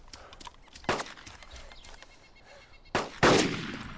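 A few sharp gunshot bursts in DayZ crack out, one early and two close together near the end, loud against a quiet background.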